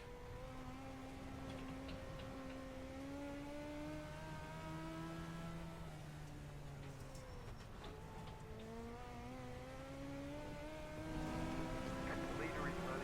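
Race car engines in a racing video game drone and rise in pitch as they rev through the gears, several cars layered together at a moderate level with a commentator talking over them.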